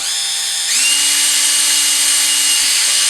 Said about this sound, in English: And this won't upset me if I drill all the way through.